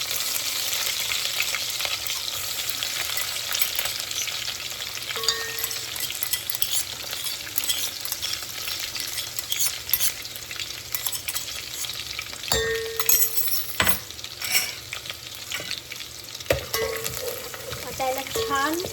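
Crushed garlic fries in very hot oil with a steady sizzle, while a spoon stirs and clinks against the pan now and then, close and moderately loud.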